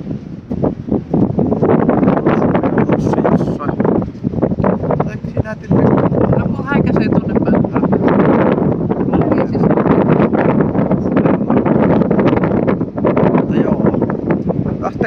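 Strong outdoor wind buffets the microphone in a loud, continuous roar with gusting rumble, on a trip from Oulu toward Hailuoto island in Finland.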